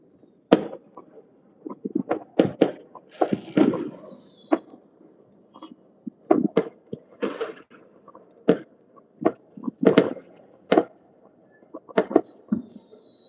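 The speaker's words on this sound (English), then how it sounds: "Still fireworks everywhere." Fireworks bursting across a neighborhood on the last day of Lunar New Year, a scattered series of sharp cracks and pops at mixed distances, some near and loud, with occasional whistling streaks between bangs.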